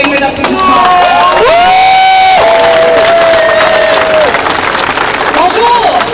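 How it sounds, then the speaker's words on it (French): A large outdoor rally crowd for Gaza solidarity in Québec applauds and cheers loudly and continuously, with shouts and whoops rising over sustained clapping, plus whistle-like tones in the din. "S'il vous plaît, une main d'applaudissement."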